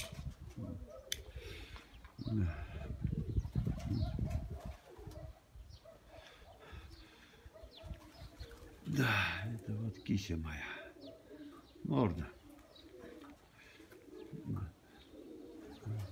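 Pigeons cooing in a dovecote, soft repeated coos and wing flutters close by, with someone talking quietly over them now and then.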